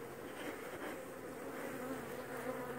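Honeybees hum inside an opened hive, a dense continuous buzzing close by, steady and even with no voices.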